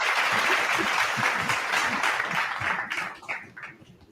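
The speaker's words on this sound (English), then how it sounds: "Give me my round of applause" A live audience applauding, a dense wash of clapping that holds steady and then thins out and fades over the last second or so, with a voice faintly under it.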